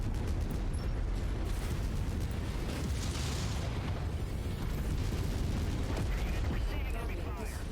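MechWarrior 5 battle with mechs exploding, a dense, continuous roar of blasts and booming impacts that stays loud throughout, with a voice speaking beneath it.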